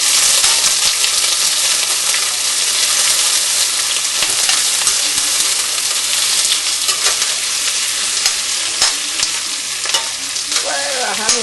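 Onions sizzle and crackle hard in a hot pan, a loud, dense, continuous frying hiss with spattering pops and occasional scrapes of stirring, close up and with no voices.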